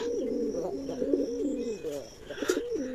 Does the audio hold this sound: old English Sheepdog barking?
no